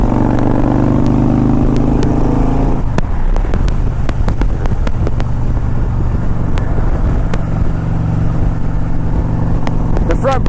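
A 2001 Harley Davidson Ultra Classic motorcycle cruising at highway speed, its loud steady engine drone mixed with heavy wind rush and scattered clicks, the pitch shifting partway through.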